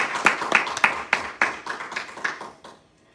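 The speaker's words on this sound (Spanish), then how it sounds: "Entonces démosle un aplauso al Señor." A small church congregation claps for the Lord during a sermon, giving a few loose, uneven rounds of distinct hand claps that thin out and stop after about three seconds.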